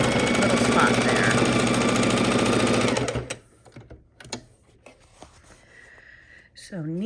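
A sewing machine runs fast and steady while stitching binding onto a quilt, a loud continuous mechanical whir for about three seconds that then stops, leaving quiet handling noises and a brief voice.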